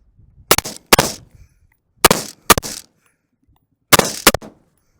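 Six sharp gunshots in three quick pairs ring out loud and close while a Primary Arms microprism sight is tested as an offset sight, with silence between each pair.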